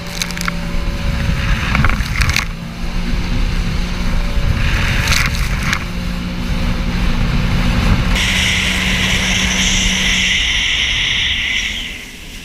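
A Sea-Doo GTI 155 SE jet ski running at full speed on the water, a steady loud engine and rushing water roar with wind buffeting, sustained throughout before easing off near the end, no voices.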